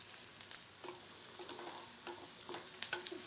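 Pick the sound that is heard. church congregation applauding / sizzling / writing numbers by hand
sizzling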